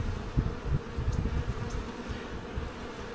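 Honeybees buzzing around an open hive during an inspection, a close, continuous low drone with fluttering swells as individual bees pass near, no talking.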